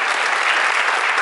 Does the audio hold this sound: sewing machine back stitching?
no